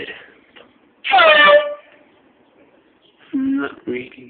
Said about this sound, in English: This is air horn number 1. Some party air horn, cheap thing from eBay.